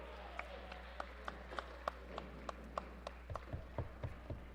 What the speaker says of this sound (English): Nice round of applause and good sportsmanship by the crowd